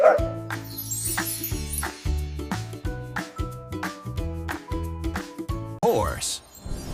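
A dog barks and yips in a steady series of short, clipped calls, close and fairly loud, with a brief whine near the end.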